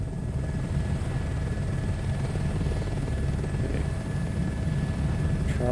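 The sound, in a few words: rescue helicopter hovering in Microsoft Flight Simulator video game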